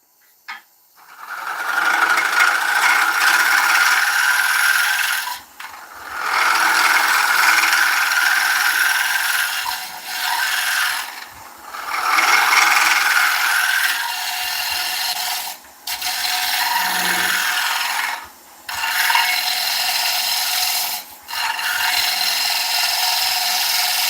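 A half-inch bowl gouge cutting a rustic oak bowl spinning on a lathe, a loud close scraping rasp in long passes of several seconds separated by brief pauses, no talk.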